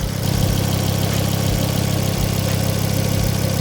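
A Mk2 Ford Focus ST225 engine idles steadily up close with its lights on for extra load, a low continuous rumble with an even mechanical throb and no pauses.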